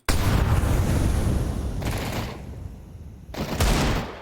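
Rapid bursts of close, loud gunfire from Counter-Strike 2 on the Mirage map, a dense volley that trails off, pauses, then erupts again in a second short burst.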